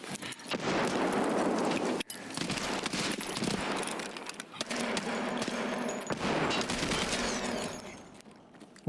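Sustained Uzi gunfire in a video game rattles in long, dense bursts with brief gaps, loud and close, punctuated by sharper shot impacts throughout.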